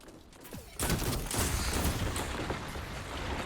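Shotgun fire in the Destiny 2 video game, a sudden loud burst of gunfire followed by a dense barrage of shots and impacts that carries on to the end of the clip.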